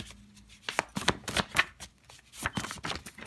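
A deck of tarot cards is shuffled with quick riffling bursts and soft slaps, several short flurries separated by brief pauses, close and clear.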